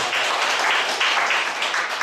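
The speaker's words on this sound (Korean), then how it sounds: "박수 박수" A lecture audience breaks into applause during a talk on humanities and arts in management, a dense steady wash of clapping that holds for about two seconds.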